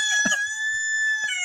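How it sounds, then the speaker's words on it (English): A rooster crows close by in a yard, one long, loud, strained cock-a-doodle-doo, with soft clucks underneath. "Mr. Rooster took his sprint across the yard."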